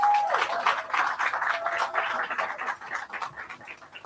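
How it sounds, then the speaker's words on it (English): An audience applauds at the grand final of a young sommeliers' competition, a loud, continuous wash of many hands clapping, with a faint tone and some noise mixed in, tapering slightly toward the end. "And please give them a round of applause."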